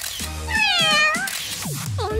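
A cartoon cat in L.O.L. Surprise! gives several drawn-out meows that rise and fall in pitch, clear and close, with a short pause between cries.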